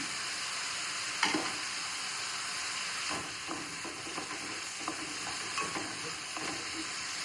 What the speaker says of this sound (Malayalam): നമ്മൾ ചീര ഉപ്പേരിക്ക് നമുക്ക് പച്ചമുളക് കട്ടിയിലിട്ട് കൊടുക്കാം. കുറച്ച് കൊച്ചുള്ളിയും വെളുത്തുള്ളിയും ചേർത്തിട്ട് കൊടുക്കാം.